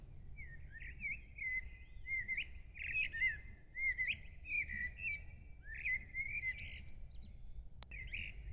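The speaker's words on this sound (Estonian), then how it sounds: "Kuulete, kuidas linnud laulavad siin." Birds sing in repeated bright chirping phrases beside a cobblestone road in Kopli, Tallinn, Estonia, over a low steady rumble of background noise, continuing throughout with brief pauses between calls.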